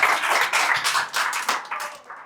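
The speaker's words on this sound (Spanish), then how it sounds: "Un aplauso a Uber Quiñones." Audience at a church talk on inner healing claps for the speaker, a loud, close burst of hand claps in uneven waves that gradually thins out toward the end, with no talking.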